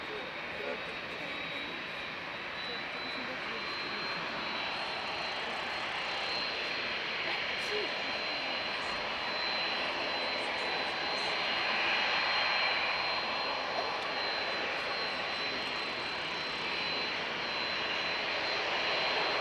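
A Qatar Airways jet airliner at Dublin Airport produces a steady, moderately distant engine roar with a faint high whine, sustained without break, with voices present.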